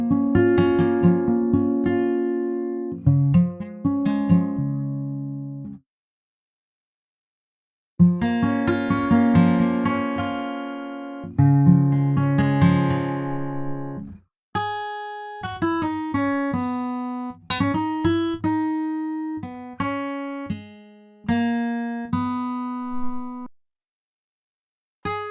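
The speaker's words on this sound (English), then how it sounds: "You'll hear more of the lovely steel string sound here." Fingerstyle acoustic steel-string guitar virtual instrument played in low position, with plucked notes and chords in bursts separated by short pauses, ringing clearly and alone.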